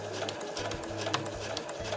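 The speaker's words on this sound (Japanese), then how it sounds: "そしたらミシン目を重ねてここまで縫いましょう。" A sewing machine stitching a reversible drawstring tote bag made from Best of Morris fabric, running in a steady fast mechanical whir with a regular motor hum and rhythmic needle ticks, close and continuous.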